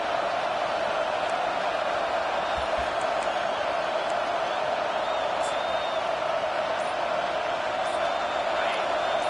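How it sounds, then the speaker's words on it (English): Stadium crowd noise in an American football video game during a third-down defensive stand, a loud, steady roar of massed voices that fills the whole stretch without pause. "Decibels rising as the crowd gets behind this defense on third down."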